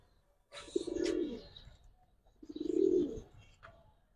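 Giribaz silver pigeons give two soft, throaty coos close by, each swelling and fading over about a second with a short pause between, with faint chirps above.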